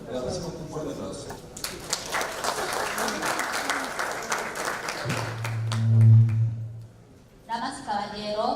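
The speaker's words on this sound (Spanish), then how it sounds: "Le agradecemos un fuerte aplauso" Audience applause at the inauguration of an evening legal seminar on human trafficking, a dense burst of clapping that swells mid-clip and then fades, with voices and a low hum around it.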